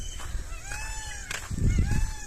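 Peacock calling outdoors in a wooded area with other birds and animals, several loud rising harmonic cries repeating over a low rumbling background, with louder noise near the end.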